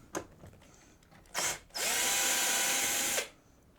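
A power driver undoes a screw on the top panel of a keyboard synth: two brief blips, then a single steady, close whine lasting about a second and a half before stopping.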